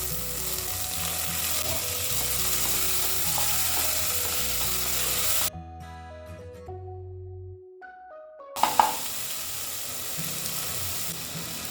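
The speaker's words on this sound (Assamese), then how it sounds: "এইখিনি এতিয়া ভালদৰে ফ্ৰাই কৰি লওঁ কেঁচা গোন্ধটো যোৱালৈ" Ginger garlic paste and chopped tomato sizzle steadily in a pan of hot oil for an egg masala, a close frying hiss that drops out briefly in the middle before resuming.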